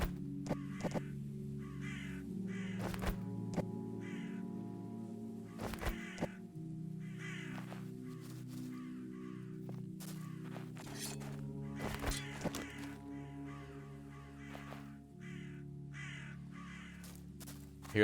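Crows caw repeatedly in a medieval village-building video game, harsh calls in scattered bursts over a low steady ambient drone, with occasional soft thuds like footsteps and no talking.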